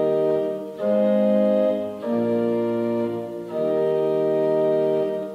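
Pipe organ plays sustained, simple chords in a traditional harmonization of the hymn "Be Thou My Vision," three broad held harmonies swelling and changing smoothly, full and unaccompanied by voices.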